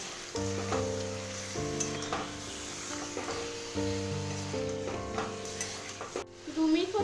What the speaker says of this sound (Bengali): মাংসগুলো এবার 2 মিনিট মতো আমরা ভেজে নেব